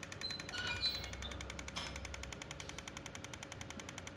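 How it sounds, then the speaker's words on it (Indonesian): A repaired Godox V850 III camera flash fires in burst mode, producing a rapid, evenly spaced train of faint ticking pulses that continues steadily throughout. "kita coba di mode burst ya teman-teman ya."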